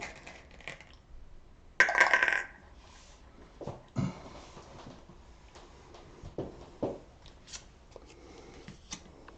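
Playing cards for the board game Abyss are shuffled close by, in scattered riffles and soft slaps with one louder burst, interspersed with light clicks and handling noises.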